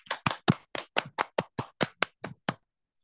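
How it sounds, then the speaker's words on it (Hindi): A church congregation welcoming a preacher with about a dozen distinct, evenly spaced handclaps, crisp and close, ending abruptly into silence. "हम खुदावन के बेटे अपोस्टल राहुल को अपनी भरपूर तालियों के साथ वेलकम करेंगे"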